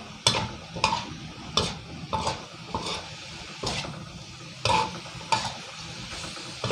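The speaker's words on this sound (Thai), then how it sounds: "ไม่ต้องผัดนานนะครับเพราะว่าถั่วฝักยาวเราลวกไว้สุกแล้ว" Pork belly, red curry paste and blanched long beans stir-fried over high heat in a pan, with a steady sizzle and repeated scraping, clattering strokes of the spatula about every half second, close and loud, with no talk.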